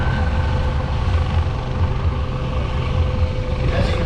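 An MH-65 Dolphin Coast Guard helicopter hovering low over water during a rescue demonstration, giving a continuous close rotor and engine rumble with a steady whine that stays level throughout.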